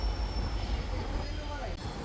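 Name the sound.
MEMU train leaving Kharagpur station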